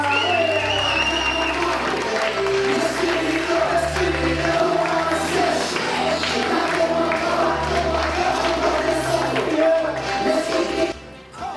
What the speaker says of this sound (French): vous applaudissez encore les mariés